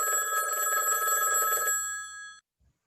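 A telephone rings with a bright, continuous electronic trill that stops abruptly after about two seconds, close and clear, followed by a brief quiet knock.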